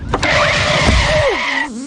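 A cartoon car engine revs loudly, then its pitch sweeps downward as it slows to a halt, a bright tonal whine dropping away near the end with no talk over it.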